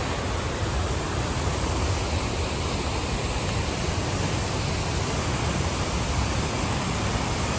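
Morton waterfall near Campbell River, British Columbia, makes a dense, steady roar of falling water that is constant and fairly close, with no voices.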